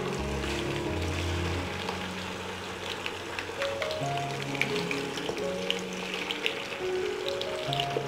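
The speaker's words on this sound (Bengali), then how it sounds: "এখন আমি রোস্টগুলো তেলের মধ্যে দিয়ে দিচ্ছি" Pieces of Bangladeshi chicken roast sizzle and fry in hot oil with a steady, dense crackling hiss throughout. Faint melodic tones sit in the background.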